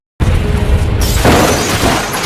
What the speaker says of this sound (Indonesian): Untuk bisa menabrak kaca depan mobilnya Toeng hingga meledak lagi